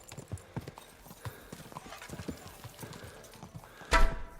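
Rapid hoofbeats of a galloping horse in the video game Kingdom Come Deliverance 2 thud continuously, with a brief loud burst near the end like a whinny or impact.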